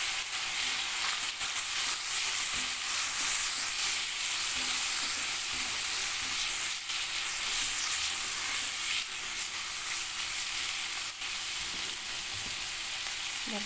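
Prawns with salt and turmeric fry in a pan for a taro (kochu mukhi) dalna. A loud, steady sizzle runs unbroken throughout, with faint stirring underneath and no talking.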